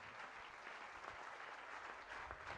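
Church congregation applauding for Jesus, a dense, steady wash of clapping from many hands, moderately distant and sustained throughout.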